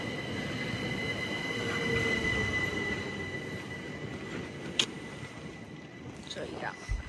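A British Rail Class 387 electric train rolls past at Fishers Gate station with a steady rumbling roar and a faint metallic wheel squeal, while voices murmur nearby.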